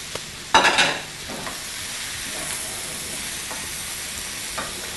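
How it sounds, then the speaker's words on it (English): Zucchini and peppers hit a hot pan over high heat, a sudden loud sizzle that settles into a steady close frying hiss with occasional stirring scrapes, and no talking. "And to that I'm going to add my zucchini."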